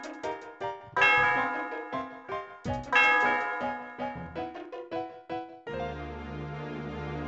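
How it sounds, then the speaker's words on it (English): Celestial Tower bell in the Pokemon Black 2 video game rings out as a quick run of bright chiming tones, ending in one sustained, reverberating peal; no talking. "The sound of the bell reverberates through the area."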